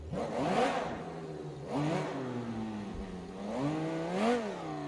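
The Civetta Scintilla sports car engine in BeamNG.drive revs repeatedly, pitch climbing and dropping in several bursts, with a throaty exhaust note and steady engine hum between.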